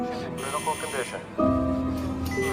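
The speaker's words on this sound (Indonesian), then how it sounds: "tiba-tiba alarm darurat pun berbunyi" An electronic alarm starts sounding partway through, a sustained steady tone under ongoing talk and background sound, loud and close.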